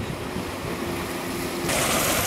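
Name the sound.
wind by a river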